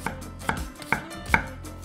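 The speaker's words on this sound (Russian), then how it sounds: "Начинаем с репчатого лука. Его мы нарезаем перьями, либо полукольцами." Four crisp knife chops slicing an onion on a cutting board, evenly spaced and close up, with no talking.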